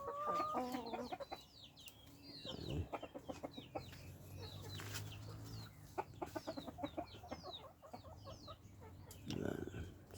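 Rhode Island and Parawakan chickens cluck and call repeatedly at close range, with short sharp notes scattered through the scene and occasional rooster-like calls, over low background noise.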